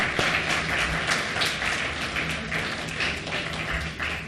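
Audience applause at a community talk, a continuous dense patter of clapping at fairly close range with a faint low hum underneath.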